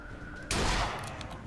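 Gunfire in a first-person shooter game: after a brief moment of quiet, one loud, sharp burst of shots erupts, then decays into a short echoing tail.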